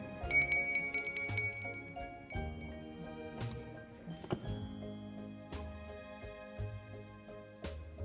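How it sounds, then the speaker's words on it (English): A small Christmas bell is rung at a vintage and antique sale, giving a bright tinkling jingle in the first couple of seconds, then fading into a few fainter, scattered rings and taps. "we gotta ring this bell so those angels can get their wings"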